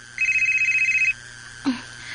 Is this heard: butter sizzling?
no